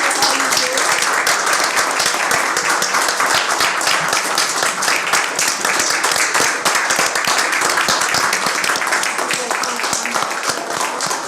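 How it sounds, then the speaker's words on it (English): Sustained applause from an audience at a school board meeting, dense steady clapping filling the room throughout with faint voices mixed underneath. "let's give them one more big round of applause"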